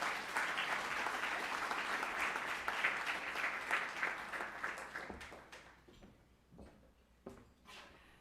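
Audience applause welcoming Professor Outlaw to the Athenaeum, dense steady clapping from a room full of people for about five seconds, then thinning out to scattered claps and fading.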